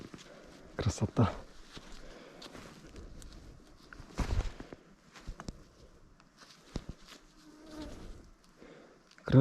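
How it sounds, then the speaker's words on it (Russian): Forest mosquitoes buzz faintly around a relic digger on a hot day, their thin whine mixed with scattered rustling, handling noises and soft footsteps. "Ай, комарье так грызет люто."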